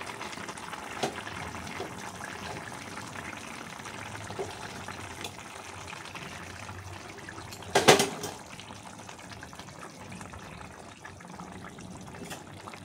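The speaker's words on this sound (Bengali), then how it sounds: "আর একটু ঝোলটা ফুটতে থাকবে।" Curry gravy with fish simmers in a pot, a continuous soft bubbling and gurgling with one brief louder clatter near the middle, with no talking.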